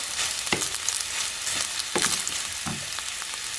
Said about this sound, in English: Hear that nice sizzle.